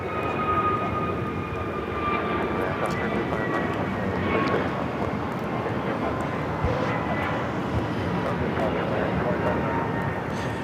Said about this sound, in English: This is American Airlines 2596 taking off to Charlotte on the A321 Neo.